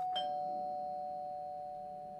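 A doorbell in the video game The Black Within gives a single clear electronic chime that rings on and slowly fades, with nothing else heard around it.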